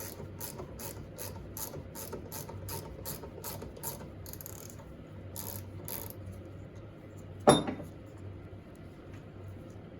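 A ratchet with a 12 mm socket turns a bolt while servicing a RockShox Super Deluxe Coil rear shock, a fast regular run of close clicking pawl strokes, a pause, then one sharp metallic clank.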